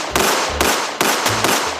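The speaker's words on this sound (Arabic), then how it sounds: "شو هذا المسدس صوته ناصي" Pistol shots ring out in rapid succession at a funeral, four or five sharp loud cracks spaced about half a second apart, close by, with a faint crowd murmur underneath.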